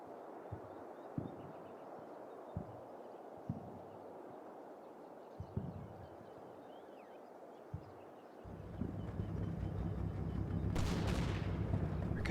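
Faint distant gunfire pops at irregular intervals in a World War II strategy video game, a soft low thud every second or so, before a louder rumbling engine-like drone swells in over the last few seconds.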